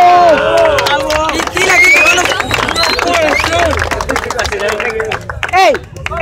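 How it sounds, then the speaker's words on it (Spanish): Crowd clapping and cheering at a freestyle rap battle, a dense, continuous roar of applause and shouts under a loud, excited MC voice calling out over it. "¡Aplausos!"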